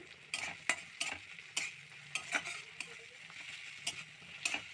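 Mustard greens fry in a pan with a quiet steady sizzle, while a spoon stirs them in repeated sharp scraping strokes at an uneven rhythm, close and fairly soft.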